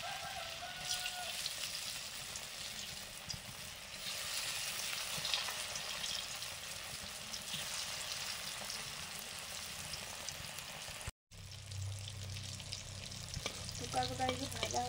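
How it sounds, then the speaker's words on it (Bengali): Elephant foot yam pieces fry in hot mustard oil with a steady, close crackling sizzle, broken by a brief dropout before the frying resumes. No one speaks. "সর্ষের তেলে ওলের থোকাগুলো ভাজবো।"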